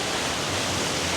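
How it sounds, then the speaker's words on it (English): Steady, even rush of falling water from a waterfall feature at a beach splash park, continuous and fairly close with no talk over it. "You got that waterfall."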